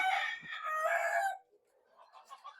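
Native chickens on a farm, a rooster crowing one loud, drawn-out call up close, followed by softer clucking and chatter from the flock.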